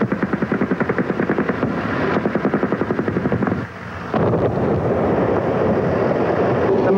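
Rapid, rhythmic pounding bursts like automatic gunfire repeat under a heavy rumbling roar during a 1991 Gulf War ground battle, then give way to a continuous loud mechanical drone.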